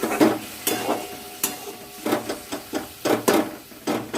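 Food being sautéed in a pan after water is added, with loud close sizzling and rhythmic scraping stirs about twice a second, no talking.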